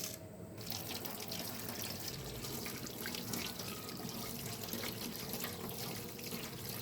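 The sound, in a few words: tap water running while washing coriander leaves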